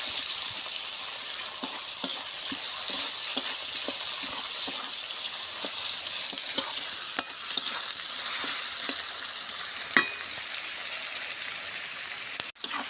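Chopped onions fry with salt in a pan, a loud, steady, close sizzle with repeated light scrapes and clicks of a spoon stirring throughout and one sharper knock near the end; no talking.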